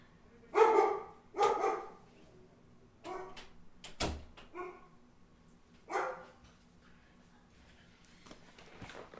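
Dogs barking in short separate bursts, several loud barks spaced over a few seconds with a sharp knock in between, in a quiet setting.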